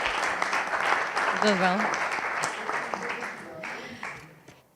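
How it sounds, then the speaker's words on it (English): An audience applauds the participants of an innovation pitch final, steady clapping under a speaker's voice that fades out toward the end. "Let's give a round of applause to all the participants"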